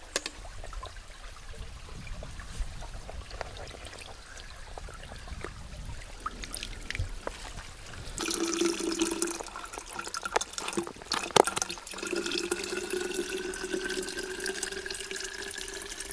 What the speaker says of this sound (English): Thanks for filling up our water.